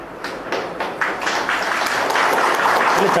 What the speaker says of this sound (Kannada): ಚಪ್ಪಾಳೆ ಬೇಡ ಬೇಡ